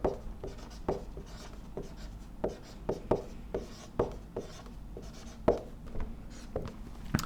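Marker or chalk writes an equation on a board in a run of sharp, irregular taps and short scratches, close and fairly quiet, with no voice over it.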